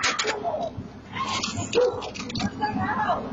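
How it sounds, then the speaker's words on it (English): A dog barks and whimpers amid a heated neighbor confrontation, with yips and whines scattered through shouting voices across a few seconds. "The dog came after me!"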